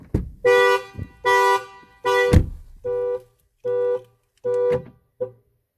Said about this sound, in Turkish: Gördüğünüz üzere aracımız kornayla uyarı vermeye başlıyor.